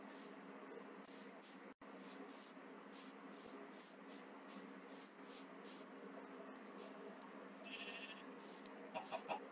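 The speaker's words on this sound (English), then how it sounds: "There are sheep in the area," Sheep in the video game Minecraft bleat in a repeated series of short bursts over a steady background hiss, with no talk.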